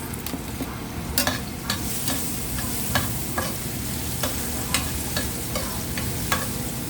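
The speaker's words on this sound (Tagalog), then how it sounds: "Magigisa ako ng upo. Ayan. Bawang. Maraming bawang." Garlic sautéing in a pan for ginisang upo with ground pork: a steady sizzle runs throughout, broken by periodic sharp scrapes of a spatula stirring the pan, close and fairly loud, with no talking.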